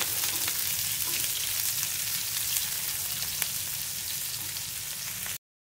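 Chopped onion fries in a pan with a dense, even sizzle held close and loud for several seconds, a few sharp pops rising out of it, and no talk. The sound cuts off abruptly at the end.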